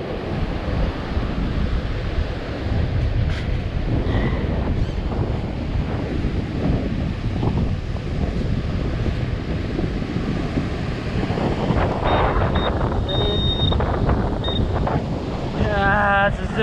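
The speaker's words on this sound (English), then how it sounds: "It is really windy." Strong wind roars steadily across the microphone on a North Carolina beach, with surf rumbling underneath and a few faint bright metal detector tones near the end.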